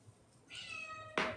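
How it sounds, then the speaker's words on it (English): A house cat meows indoors: one clear, drawn-out tonal meow with a rising, harmonic-rich cry, followed by a brief, sharper burst at the end, heard alone at close range. "Why is this cat keep meowing? He never does this."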